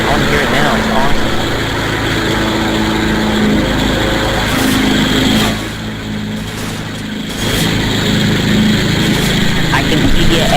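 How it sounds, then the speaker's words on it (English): Lawnmower engine in the video game Counter-Strike: Global Offensive: a steady, buzzing drone hums continuously and dips briefly midway, with voices talking over it. "I appreciate the lawnmower."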